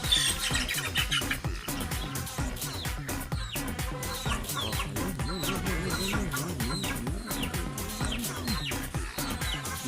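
Many chickens cluck and squawk continuously close by, a dense, busy flock chorus with no talking.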